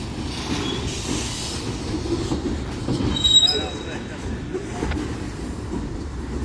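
The tail end of a BNSF freight train rolls past a grade crossing in Metairie, a steady rumbling roar of rail cars with faint wheel squeal, swelling briefly near the middle before settling.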